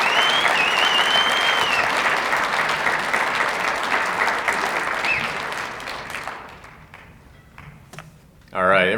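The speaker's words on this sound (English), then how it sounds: "please give another round of applause to our two inductees tonight, Jimmy Everett and Mark Saunders" An audience at a tennis Hall of Fame ceremony gives sustained applause to inductees, dense clapping that gradually fades after several seconds, with a voice briefly heard at the close.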